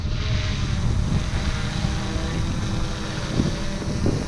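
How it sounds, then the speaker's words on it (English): Strong outdoor wind of about 30 mph gusting beside a tree, a steady loud broadband roar buffeting the microphone throughout with no pauses. "That's 30 mile an hour wind right now."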